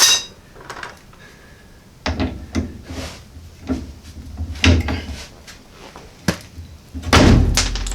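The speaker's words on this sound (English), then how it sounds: "See if I can snap the bolt off." Metal knocks and clanks sound as a rusted bolt is worked and snapped off the rear frame rail of a Jeep Wrangler YJ, a series of sharp irregular impacts at close range ending in a louder final crack and thud.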